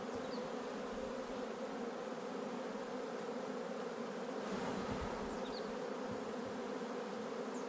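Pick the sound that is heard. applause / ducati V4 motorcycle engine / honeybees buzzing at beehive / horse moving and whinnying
honeybees buzzing at beehive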